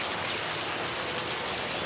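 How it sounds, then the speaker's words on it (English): Steady rain falling outside during a stormy day, a dense even hiss of drops on surfaces filling the whole stretch with no voices. "What, raining?"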